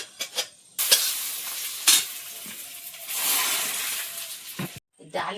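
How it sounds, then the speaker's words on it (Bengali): Panch phoron and a bay leaf dropped into dal with hot oil: a bright hiss bursts up and crackles steadily, with scraping of a spoon against the pot and a few short clinks, and a voice briefly heard near the start and end. "একটু পাঁচ ফোড়ন ওটা তেজপাতা এটা ডালের মধ্যে দিয়ে দাও"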